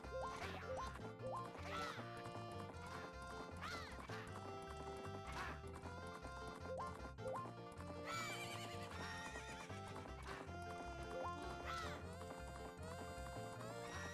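Horse neighs and galloping hoofbeats from Zelda: Majora's Mask ring out over dense, continuous game music, with whinnies rising above the steady full-band mix throughout.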